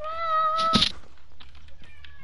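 A cat gives a single clear, drawn-out meow close by, rising and falling over a faint steady tone and low background rumble.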